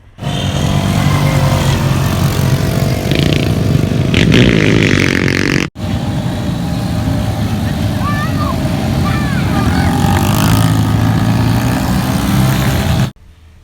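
A loud motorbike engine runs and revs steadily throughout, with a brief cutoff midway, while voices and crowd chatter carry underneath, outdoors in Dubai.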